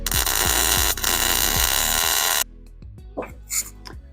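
A truck fender well is tack welded with a loud, dense crackling buzz that runs steadily for over two seconds. After a sudden stop come a few short sharp bursts and clanks.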